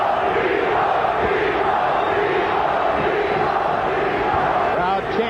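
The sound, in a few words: boxing crowd chanting Tito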